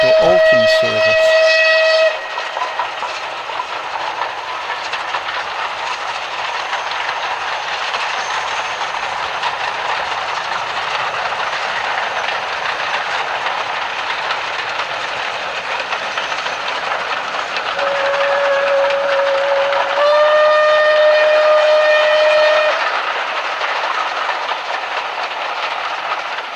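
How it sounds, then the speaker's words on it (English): Rebuilt Southern Railway West Country Class Pacific steam locomotive No. 34046 Braunton passes on a heritage line, a steady loud rumble and clatter of rolling stock with sustained whistle blasts at the start and again near the end. "Southern Railway's rebuilt West Country Class Pacific No. 34046 Braunton is seen passing Northside Lane"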